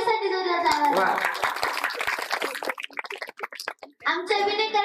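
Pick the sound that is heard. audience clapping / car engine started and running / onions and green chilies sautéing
audience clapping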